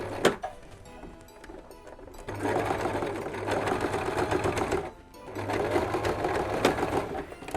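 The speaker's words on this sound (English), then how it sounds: "I've already changed my sewing machine and just secure a little stitch in white on the seam just to keep it down." A sewing machine stitches a seam on a stocking with white thread, whirring steadily in two long close runs separated by a brief pause, with a faint low hum beneath.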